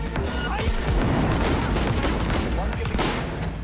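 Dense, continuous gunfire with booming impacts in the video game Cyberpunk 2077, steady and loud throughout, with voices talking under the shooting.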